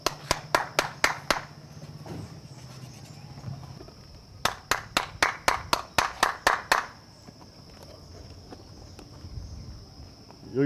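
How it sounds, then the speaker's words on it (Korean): Two bursts of sharp hand claps ring out to call people to the door, a rapid run of about eight claps then a pause and a second run of about nine, over outdoor background with crickets and faint distant noise. "여기 왜 박수를 치는 건가요?"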